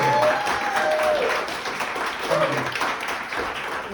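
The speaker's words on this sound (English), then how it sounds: "how about a round of applause for Sean Perrun?" A premiere audience applauds a cinematographer with a steady, dense wash of clapping that holds throughout, while a faint voice and a whistle cut through near the start.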